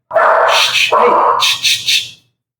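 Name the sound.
dogs barking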